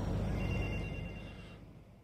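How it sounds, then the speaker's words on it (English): A telephone rings faintly in the video game GTA 3, a thin, sustained electronic tone over a dense background wash that slowly fades. "Whose phone is that,"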